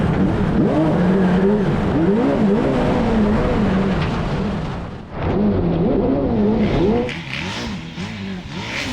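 A V8-swapped Mini revs hard while drifting, its engine howling and rising and falling in pitch with a brief dip in the middle, loud and close, with tyre noise and roar continuing throughout.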